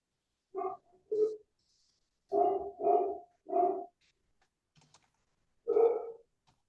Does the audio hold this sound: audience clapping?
no